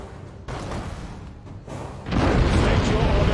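Heavy booming shots from Nova Cannons in Battlefleet Gothic Armada II, deep rumbling blasts that swell in two stages and grow louder and denser toward the end, with talk over them.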